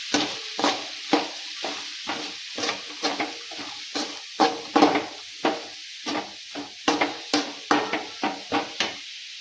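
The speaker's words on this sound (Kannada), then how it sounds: "ಈಗ ಚೆನ್ನಾಗಿ ಮಿಕ್ಸ್ ಮಾಡ್ಕೊತೀನಿ ರೀ." Radish palya with chana dal being stirred and fried in a pan: a steady run of scraping spatula strokes, close and fairly loud, over a continuous oil sizzle, with no talking.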